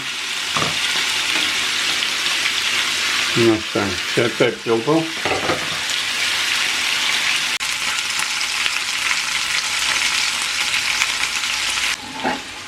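Pork ribs browning in a pan over high heat give a steady, loud sizzle throughout, with a short burst of talk near the middle.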